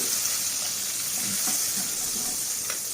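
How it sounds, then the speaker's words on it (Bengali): Butter melts into leftover oil in a kadai, giving a steady, close frying sizzle with a constant bright hiss and faint bubbling crackles, no voices over it. "কড়াইতে যে বাকি তেলটুকু আছে তার মধ্যে অল্প করে আমি বাটার দিয়ে দিলাম"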